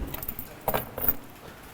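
Keys jangling in a classroom, a couple of short metallic shakes and clinks close by against a quiet room.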